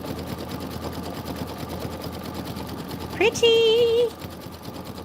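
An embroidery machine stitches out a snowman pillow block, giving a steady rapid mechanical whir close by, with someone speaking briefly over it.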